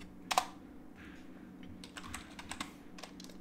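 Keys clack on a computer keyboard at close range, a couple of sharper strikes followed by a quieter, irregular run of typing.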